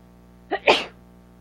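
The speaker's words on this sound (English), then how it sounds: "think I'm about to sneeze." A single sneeze, a short sharp intake followed by a burst, close and fairly loud, then quiet.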